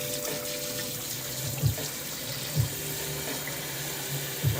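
Water streams steadily from a tap over freshly dyed tie-dye fabric being rinsed, a constant hiss with a few soft, periodic splashes, fairly quiet and without talking.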